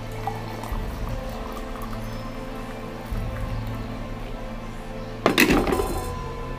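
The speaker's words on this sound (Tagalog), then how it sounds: "lalagyan natin siya muna ng mainit na tubig" Hot water pours into a glass for lemon honey juice with a steady trickle, then a brief clink and louder splash near the end.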